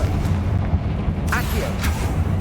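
A Confringo fire-blast spell explodes in the Hogwarts Legacy video game, giving two quick booming bursts over a steady rumbling game background.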